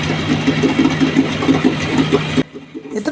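A ship's rescue boat engine runs close by with a steady, even mechanical chugging and knock. It cuts out abruptly near the end, leaving faint background sound.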